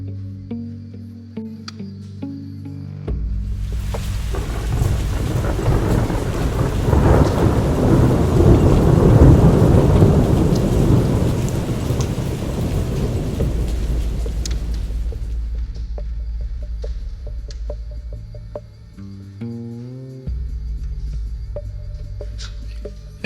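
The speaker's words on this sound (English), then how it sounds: "Whoa, this is some gusty wind. Oh, there's the hail." A Minnesota cabin is hit by a hailstorm with gusty wind and thunder, heard as a loud roaring surge of wind and pelting hail that swells and then drops back, with low rumbling before and after.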